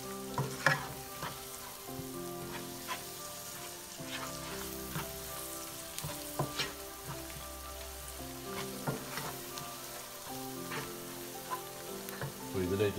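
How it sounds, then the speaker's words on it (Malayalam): Chilli powder sautés in a pan for beef masala, making a low continuous sizzle with intermittent soft scrapes of stirring. The frying stays fairly quiet and even throughout, with no talk. "അപ്പോൾ ആദ്യം മുളക് ചേർത്ത് അതിൻ്റെ കാരം ഒന്ന് മാറിക്കിട്ടുന്നത് വരെ വഴറ്റുക."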